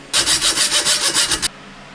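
A hacksaw blade rasps back and forth in about nine quick, even strokes, loud and close, then stops abruptly, leaving a quiet room.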